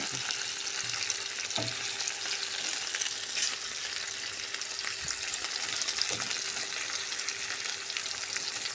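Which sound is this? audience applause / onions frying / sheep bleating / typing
onions frying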